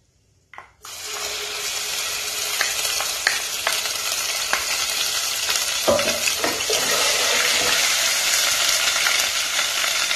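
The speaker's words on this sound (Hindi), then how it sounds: "हल्का सा हम इसको सौटे करेंगे।" Whole spices (black cardamom, green cardamom, black peppercorns) sizzling and frying steadily in hot oil in a pan for chicken korma, a loud continuous crackle with occasional stirring clinks, no talk.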